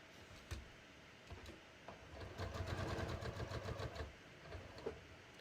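A serger overlocker runs a narrow 3-thread stitch along the clean-finished edge of denim jeans fabric, giving a rapid, rattling mechanical whir in a sustained burst after a few soft clicks, close and moderately loud.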